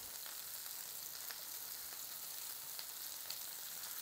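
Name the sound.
frying potatoes and zucchini on both sides in a pan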